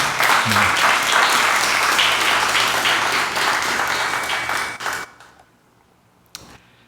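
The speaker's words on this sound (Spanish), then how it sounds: "Dale un aplauso" Church congregation applause during a sermon, a full sustained clapping that fades out after about five seconds, leaving near silence with a faint thump at the end.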